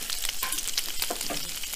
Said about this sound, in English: I'm frying up my bacon right now.